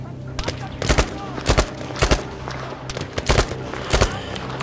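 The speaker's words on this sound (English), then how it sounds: "Who's shooting at me?" Gunfire in the video game Battlefield V: sharp shots in irregular bursts roughly every half second to second, fairly loud and close over a steady background rumble.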